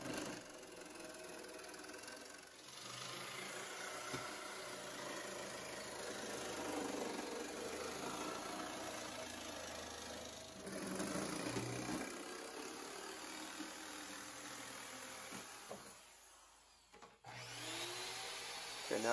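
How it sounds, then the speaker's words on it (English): A jigsaw roughly cuts a wooden shape for a Christmas tree shelf, a steady, fairly faint motor buzz that runs for most of the stretch and dips briefly near the end before resuming. "I will go ahead and grab my jigsaw and cut this out roughly"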